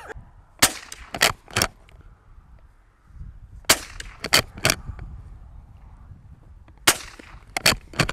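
Gunshots from a Chiappa LA322 western lever-action rifle fired outdoors, sharp loud cracks in three quick clusters of two or three shots each, separated by short pauses with a faint background hum between volleys.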